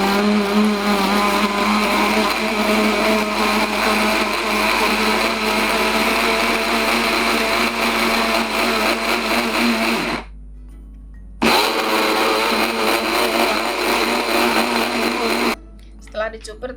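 A kitchen blender whirs loudly and steadily while blending a sweet palm-sugar kaya mixture with a little added water, cutting out briefly twice before resuming.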